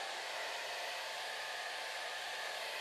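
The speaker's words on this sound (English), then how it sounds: "get our hairdryer, and we're just going to wave it over the front" A hair dryer blows continuously over chocolate at a pastry workshop, a steady, loud airy hiss with a constant motor whine and no pauses.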